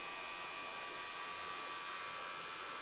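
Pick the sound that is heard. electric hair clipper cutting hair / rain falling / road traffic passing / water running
electric hair clipper cutting hair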